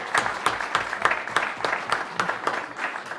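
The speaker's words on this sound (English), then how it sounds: "Just give him a round of applause for being here." At a live holiday show by a vocal group at Caffe Lena, a small audience claps in a short run of crisp, evenly spaced beats, moderately loud and close.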